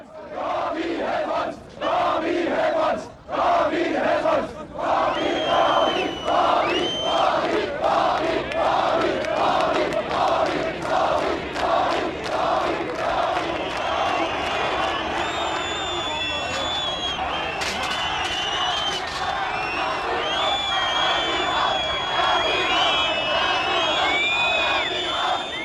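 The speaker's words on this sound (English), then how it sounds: "Meanwhile, a hostile crowd was gathering outside." A hostile crowd gathers outside during a Warsaw Pact leaders' visit in East Germany, a dense mass of shouting and chanting voices rising and falling in rhythmic waves, loud and sustained throughout.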